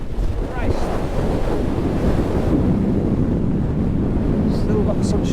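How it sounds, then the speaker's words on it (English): Strong wind roars and buffets the microphone continuously on an open fell, with waves surging underneath and faint voices barely coming through. "still really windy once you get out that"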